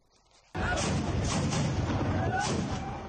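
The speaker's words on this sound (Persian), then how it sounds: "این تصاویر از درگیری های دیشب عراق درگیری های پراکنده با شلیک های پیهم گلوله" Sustained gunfire and heavy thumping from night clashes in Iraq, starting abruptly and rolling on loud and dense for about three seconds, with booming shots piling over each other in news footage.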